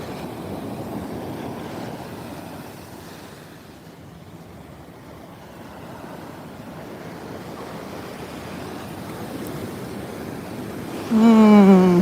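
Ocean waves and surf wash steadily onto a beach in Bali, a continuous broad roar with wind buffeting the microphone, swelling louder with a brief tonal whine near the end.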